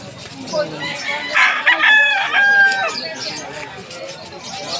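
A rooster crows loudly in the middle of a busy outdoor poultry market, with hens clucking and people talking around it.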